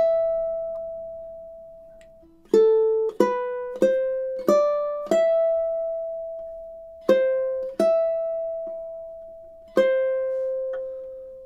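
Ukulele playing the opening two measures of Swan Lake, a sequence of about ten plucked notes with clear ringing decays, some notes held longer, played solo with no talk.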